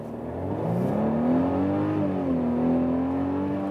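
A Mercedes SUV accelerating in sports plus mode, its engine note rising steadily in pitch over a few seconds with a clear, sustained tone heard from inside the cabin, and no talking.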